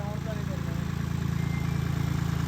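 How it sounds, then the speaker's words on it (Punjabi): A Swaraj 5210 tractor engine idles with a steady low, throbbing chug, close and constant under a faint voice. "ਆ ਟਰੈਕਟਰ ਚੱਲ ਤੋਰ ਲਾ"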